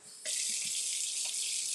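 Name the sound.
hot water running from faucet to wash cast iron pan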